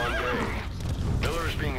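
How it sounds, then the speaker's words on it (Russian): A horse whinnies over a busy Metal Gear Solid V game soundscape, with a second neigh following shortly after, fairly close and clear. "Короче, нафиг мне эта лошадка."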